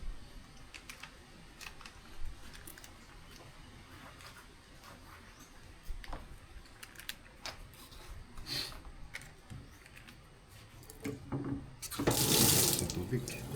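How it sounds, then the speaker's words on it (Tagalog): Cooking pots being washed with water at a riverside campsite in Famy, Laguna, with scattered clinks and splashes, then a louder rush of pouring water near the end. "hugasan ko lang ulit itong mga lutuan natin"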